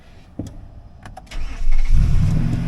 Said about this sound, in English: Now, when I go into the truck, we get in here, start them up.